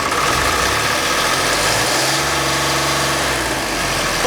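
A Magirus Deutz 170D11 tractor engine runs with a sticking throttle, a loud, steady diesel drone that holds close and constant throughout.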